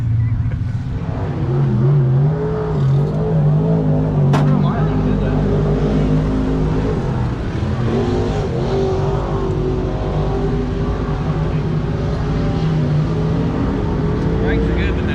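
A pure stock race car rolls out for hot laps, its engine droning loudly and steadily with rising and falling revs, heard close and continuous throughout.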